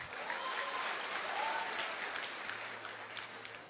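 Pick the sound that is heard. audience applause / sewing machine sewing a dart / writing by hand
audience applause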